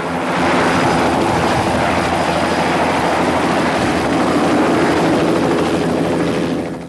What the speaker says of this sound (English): an RCMP helicopter was in the air, looking for any sign of the missing girl